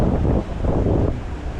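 Strong wind buffets the microphone steadily while fishing outdoors, a dense low rumble with gusting swells and no talking.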